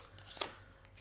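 Tarot cards are shuffled for a new draw: one soft, brief papery riffle, quiet and close, with no talking.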